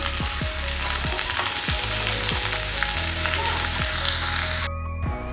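Potatoes fry in a pan for a Bengali jhinge aloo posto, hissing continuously while a spoon scrapes and stirs in repeated strokes; the sizzle drops off abruptly near the end.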